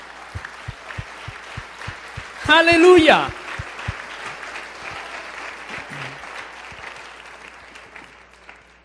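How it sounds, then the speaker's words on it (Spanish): A church congregation applauds steadily and fairly softly over a regular low thumping beat, while a voice calls out briefly partway through and the clapping carries on afterward. "Dan un aplauso al Señor."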